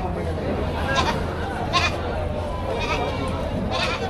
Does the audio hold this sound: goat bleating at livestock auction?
yes